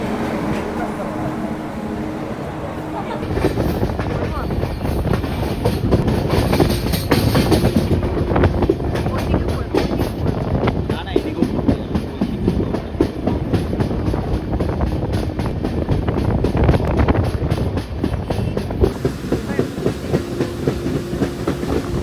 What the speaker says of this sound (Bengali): আর আমাদের ট্রেন এখন ঢুকছে কৃষ্ণনগরে